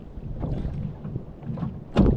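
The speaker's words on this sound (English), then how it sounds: "why is splashing so much in the outboard?" Water churns and splashes around the outboard motor of a sailboat crossing a bay. A steady, rumbling wash mixes with wind buffeting, and a heavier splash surges near the end.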